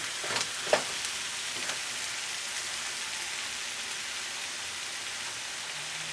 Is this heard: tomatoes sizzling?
yes